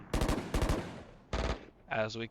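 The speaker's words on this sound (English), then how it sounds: "we hear some gunshots going off" Rapid bursts of automatic gunfire in the video game VALORANT, in short volleys, loud and close, followed by a brief distorted voice-like blip at the end.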